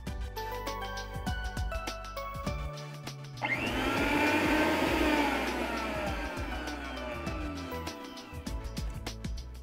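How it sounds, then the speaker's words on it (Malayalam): A mixer grinder crushes bird's eye chillies and a single dried red chilli. After a quiet stretch the motor whirs up loudly at about 3.5 seconds, holds a strained, grinding drone and winds down near 8.5 seconds, with small clatters on either side. "ഇതൊന്ന് മിക്സിയിലിട്ട് ചതച്ചെടുക്കാം."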